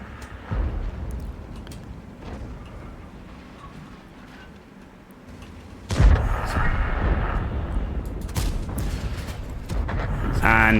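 Tank guns fire in World of Tanks as a steady booming rumble of battle, with a louder, denser burst of firing about halfway through, a sharp crack near the end, and game voices mixed in.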